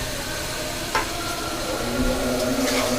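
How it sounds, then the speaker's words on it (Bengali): Chicken pieces go into fried spice paste in a pan for chicken with mung dal, giving a loud, steady sizzle and hiss with brief stirring scrapes near the pan. "আমি এখন মশলার ভিতরে এই মাংসগুলো দিয়ে দেব"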